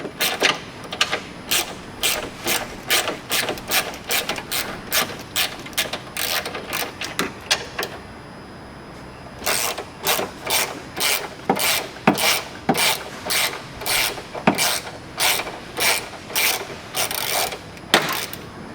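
A ratchet wrench loosens 13mm nuts on a car's front strut bar, giving loud, close, rapid runs of rhythmic clicking that pause briefly, then resume in steady bursts.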